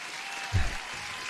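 Audience applause at a live day trading stream, a brief burst of clapping over a steady hiss, with a low thump in the middle.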